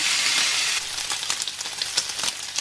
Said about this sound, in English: Nothing better than that sound of sizzle.